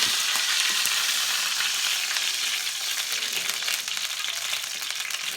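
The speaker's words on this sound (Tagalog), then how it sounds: "Maglagay tayo ng mantika dahil ipiprito natin yung ano" Steady, dense sizzling of chicken for chicken kabsa frying in hot oil, a continuous crackle that fills the clip with no voices.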